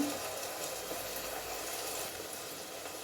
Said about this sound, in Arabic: لازم يتقلى البصل بالكدا